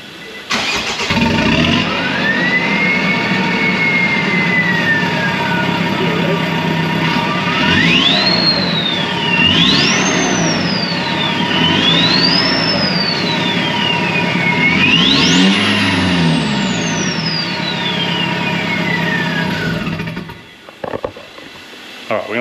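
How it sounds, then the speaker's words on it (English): Nissan NP300 Navara fitted with a 4-inch stainless DPF-back exhaust starting up, cranking then settling into a loud diesel idle with rising and falling revs and a whining turbo, close and steady throughout. "we're just gonna get the start up here so you can see what it sounds like on startup"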